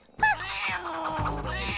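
A cartoon cat lets out a meow, a bright harmonic cry with a quick rising start, followed by animated dialogue-like vocal sounds and music continuing close and steady.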